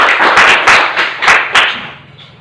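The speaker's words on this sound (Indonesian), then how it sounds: "Tepuk tangan untuk Risma ini ya." A classroom of students clapping for a classmate, a short burst of loud, close, rapid hand claps that fades out after about two seconds.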